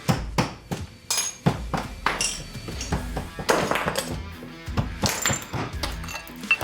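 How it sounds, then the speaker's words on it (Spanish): Chisel driven by a rubber mallet chipping broken ceramic floor tiles out from the centre toward the edges, a steady run of sharp close knocks mixed with clinking ceramic shards, no talking. "con un cincel y un combo de goma vamos a comenzar a sacar los trozos de cerámica"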